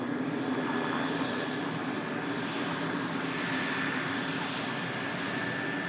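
A Boeing 787 Dreamliner starts its departure roll, a continuous medium-loud jet engine roar with a faint high whine running through it, steady from start to finish, with no voices.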